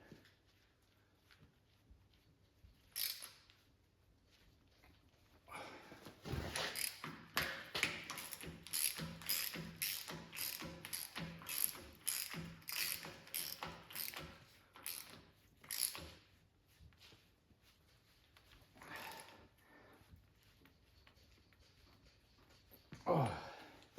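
Bolts being tightened with a ratchet wrench to clamp the quick coupler sleeves on a wheel loader, a fast run of sharp metallic clicks in steady rhythm, close and fairly loud, with a few separate knocks before and after.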